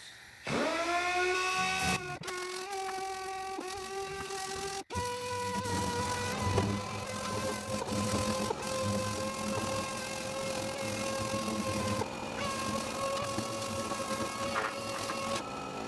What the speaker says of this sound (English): got some 80 grit here on the orbital sander